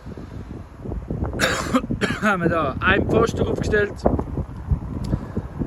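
Wind gusts buffet the microphone outdoors in a rough, uneven rumble, while someone speaks over it throughout.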